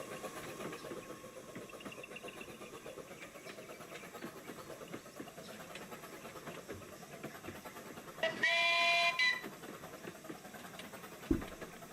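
A locomotive whistle gives one brief, tonal blast partway through a long stretch of steady, noisy background rumble. It is fairly faint and somewhat distant.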